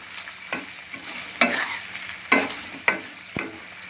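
A tablespoon of ginger garlic paste fries in a pan for a Telangana-style chicken curry, with a soft sizzle under several sharp stirring scrapes at irregular intervals, close by and with no talking.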